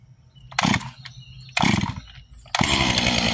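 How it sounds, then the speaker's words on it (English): Stihl MS500i fuel-injected chainsaw with no choke being pull-started: three loud bursts, the first two brief pulls catching and dying, the third firing into a steady, sustained engine roar. "There's no choke on the 500i because it's a fuel injected, so see how it starts."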